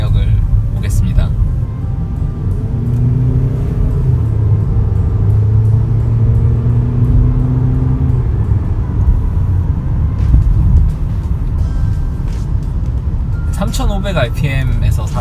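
A Kia Sorento with a 2-litre turbo engine accelerates uphill to overtake at about 70% throttle, giving a steady low cabin drone and rumble that shifts in pitch partway through, with someone talking over it.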